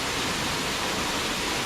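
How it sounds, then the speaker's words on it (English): The twin waterfall in Pu Mat forest rushes with a dense, steady roar, close and loud, unbroken throughout with no voices. "Cái thác nước đôi hoặc là thác tình nhân cũng được đó."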